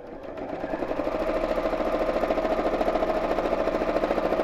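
A domestic sewing machine runs steadily while free-motion stitching around a pot shape on a Christmas tree appliqué with red thread, giving a rapid, even mechanical hum and needle chatter that builds up and holds close and loud without talk.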